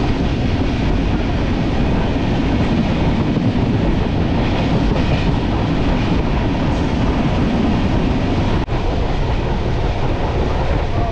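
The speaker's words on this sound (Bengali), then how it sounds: "আমাদের ট্রেন ক্রস করছে গুলমা স্টেশন।" Inside the Kanchankanya Express sleeper coach passing Gulma station, a loud, constant rumble of wheels and carriage noise fills the clip with steady rattling and no speech.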